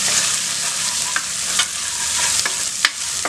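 Onions sauté in a pan for a Tamil kuzhambu, with a steady sizzle broken by repeated sharp scrapes and clinks of a spatula stirring them.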